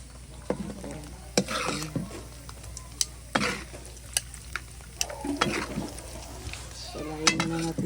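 Latik cooking in a pan for biko with ube flavor, with sugar added: steady low frying sizzle under repeated scraping stir strokes and occasional clinks of a utensil against the pan, no voices.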